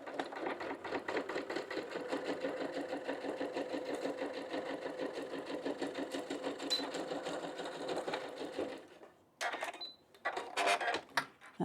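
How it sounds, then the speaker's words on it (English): A sewing machine runs steadily, stitching a Japanese knot bag with a fast rattling whir for about eight seconds, then stops and gives a few short bursts, likely a backstitch, up close and moderately quiet. "And I'm going to make sure that I remember to backstitch."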